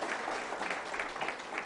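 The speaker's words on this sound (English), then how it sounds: "I think he deserves a very big applause" Steady applause from a crowd, a continuous wash of clapping at moderate distance with no break.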